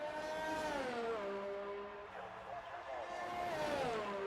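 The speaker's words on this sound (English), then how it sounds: "The power of that Mercedes engine." Mercedes Formula 1 engine in a racing video game at Baku, a high, tonal engine note that climbs and drops through upshifts and then rises again, loud and close, with a commentator speaking over it.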